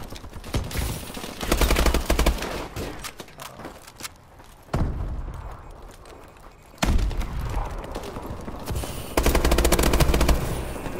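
A remote turret fires in the Call of Duty: Advanced Warfare video game, with loud bursts of rapid automatic fire and heavy thuds broken by brief lulls, close and dominant, with no talk.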